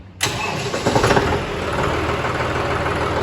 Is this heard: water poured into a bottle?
no